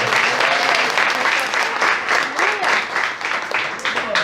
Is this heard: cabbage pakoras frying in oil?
no